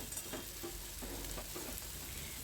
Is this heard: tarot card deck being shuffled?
no